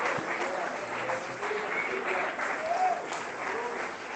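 A church congregation applauding a pastor's arrival, dense sustained clapping from a crowd filling the room, steady and fairly loud throughout with a faint voice mixed in.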